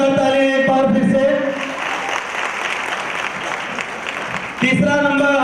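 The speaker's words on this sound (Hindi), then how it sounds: "जोरदार ताली एक बार फिर से।" Loud, sustained crowd applause fills the hall at an Islamic quiz contest, with a voice over a PA at the start and again as the clapping fades near the end.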